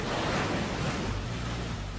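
Hurricane Sandy pounding the Rockaway Peninsula coast in Queens, New York, with waves up to 4.5 metres and gusts over 135 km/h: a continuous roar of surf and wind, loud and steady, with no voices.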